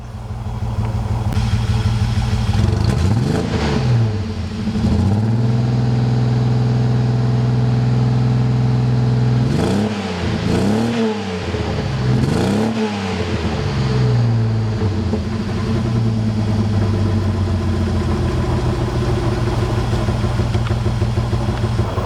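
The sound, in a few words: car engine running at full operating temperature, exhaust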